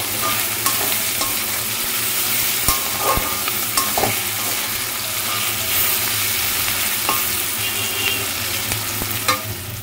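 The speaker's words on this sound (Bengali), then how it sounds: "এখানে দেখো, পেঁয়াজগুলো একটু ভেজে নিচ্ছি" Onions frying and being stirred in a pan, a steady close sizzle with repeated clinks and scrapes of a spoon against the pan throughout, no voices.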